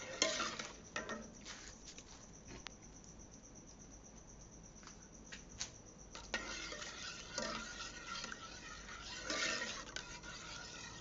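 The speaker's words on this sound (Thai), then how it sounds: "คนไม่วางมือจนกว่า ตัวกะทิจะสุกใสนะคะ" Coconut milk simmering in a pot for a Thai sticky rice dessert, stirred without pause: a soft, steady scraping of the utensil against the pot over a faint bubbling sizzle, with a few louder clinks.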